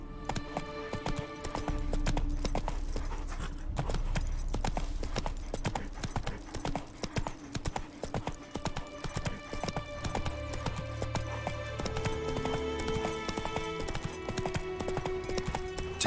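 Roach the horse gallops in The Witcher 3 Wild Hunt, a steady rapid clip-clop of hooves running continuously at close range over in-game music and ambience, with no talking.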